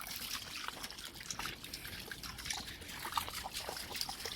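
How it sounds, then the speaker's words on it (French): A dog wades in a stream as water trickles and sloshes continuously nearby, a soft, steady burble with small splashes and no talking. "le loulou il a décidé d'aller là dans le ruisseau"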